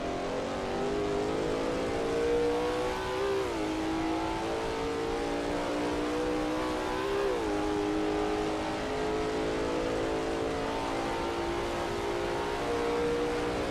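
A Lola T70 MkII Spyder race car engine at Road America in a racing game, a steady sustained drone with brief pitch dips as the driver shifts or lifts twice, holding loud and continuous throughout.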